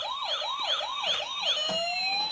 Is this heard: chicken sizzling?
no